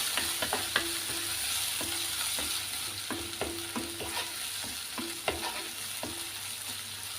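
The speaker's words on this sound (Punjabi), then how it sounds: "ਇਹਨਾਂ ਨੂੰ ਚੰਗੀ ਤਰ੍ਹਾਂ ਦੇ ਨਾਲ ਹਿਲਾ ਲਾਂਗੇ" Turmeric and Kashmiri chili stirred into onion masala frying in a pan for a mushroom and pea curry, with rhythmic spatula scrapes and taps over a soft, steady sizzle.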